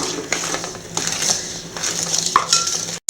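A utensil scrapes and clinks steadily against a bowl while cupcake batter is mixed with milk for a double batch, a continuous close-up clatter with brief louder knocks.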